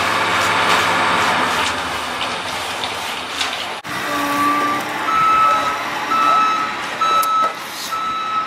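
A concrete truck reverses at a driveway pour, sending out a regular series of loud, even beeps over diesel engine rumble and outdoor noise.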